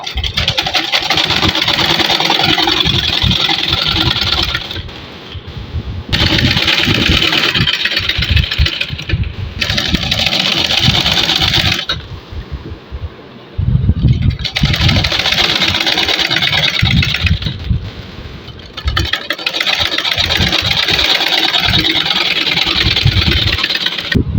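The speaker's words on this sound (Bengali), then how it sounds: "গলাও সেলাই করে নেব।" Electric sewing machine stitching the neck of a child's garment, a loud steady motor whir running in long bursts with brief pauses between runs.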